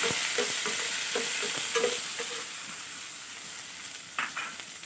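Onions sizzle in a frying pan while a spoon stirs them, a steady hiss with light repeated scraping taps that thin out partway through, then one last knock near the end.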